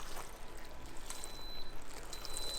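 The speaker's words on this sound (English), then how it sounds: "we're going to pour this over the mushrooms" Liquid poured over mushrooms inside an Instant Pot, a soft steady splashing pour with faint bright clinks, heard close and alone throughout.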